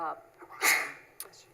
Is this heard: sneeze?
yes